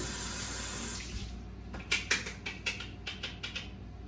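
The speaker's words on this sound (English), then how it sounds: "So just gonna wash this out back again" Tap water runs steadily into a sink while a container is rinsed out, then the flow stops and several light knocks and clatters of handling follow, close and fairly quiet with no speech.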